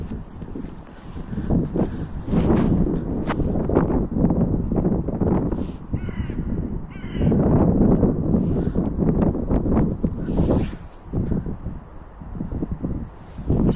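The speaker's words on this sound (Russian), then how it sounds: "Вот, видите, смотрите, какой ветер." Strong gusty wind blowing across an open outdoor spot during a snowstorm and blizzard, a loud continuous rush with buffeting microphone noise that surges and eases in repeated gusts.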